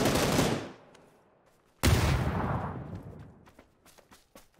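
Two heavy gunshots in PUBG, each a loud booming crack with a long rolling echo fading over more than a second, followed by faint distant shots.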